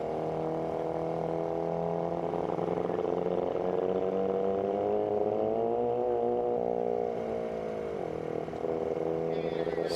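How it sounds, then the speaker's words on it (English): A 650cc partially streamlined vintage gas motorcycle on a salt flat record course, its engine droning steadily with slowly rising and falling pitch, fairly distant and continuous. "650cc, partially streamlined vintage gas motorcycle"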